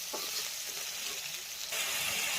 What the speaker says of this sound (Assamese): তেল দি ইয়াতে দালচেনি, ইলাচি আৰু পিঁয়াজ কাটি লৈ ভাজি আছোঁ ৰঙচুৱাকৈ